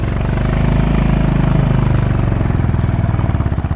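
A motorcycle engine labours hard up a steep hill road, its loud, close, rapid firing pulses throbbing steadily and rising in effort, with no voices.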